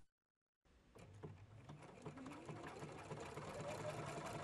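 After a brief silence, a Husqvarna Viking Platinum Plus sewing machine starts stitching a taper satin stitch on fabric over tearaway stabilizer, a fast, even whirring chatter that grows slightly louder and continues to the end.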